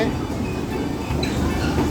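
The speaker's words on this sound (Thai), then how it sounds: "กำลังจะมาเล่นรถไฟดีมโบนะครับ" The Dumbo kiddie train ride at Dreamworld rumbles along with a steady, loud clatter of wheels and carriages, while muffled voices are faintly present beneath the mechanical noise.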